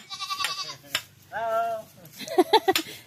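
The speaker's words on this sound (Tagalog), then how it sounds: "Kambing." Goats bleat in a Philippine rural setting during cassava harvesting, with a long wavering bleat in the middle and sharper short cries near the end, mixed with brief talk and rustling.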